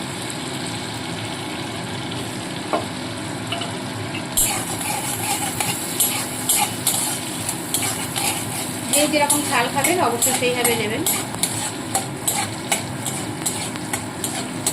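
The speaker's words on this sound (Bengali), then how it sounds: "সামান্য জিরে ফোড়ন দিয়ে নিলাম এবার দেব কুচনো কাঁচা লঙ্কাটা" Cumin seeds and chopped green chili fry in hot oil, a steady sizzle that jumps louder as the chili goes in, with stirring clinks and someone talking over it.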